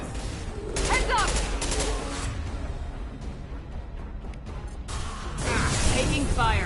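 Gunfire in the sci-fi shooter Mass Effect 2, bursts of rapid weapon fire and impacts coming in clustered volleys amid whooshing effects and combat noise, with voices calling out over the action.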